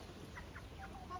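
A rooster raised for sale on a small backyard poultry farm gives a few short clucks, close by against a steady noisy background, with no speech.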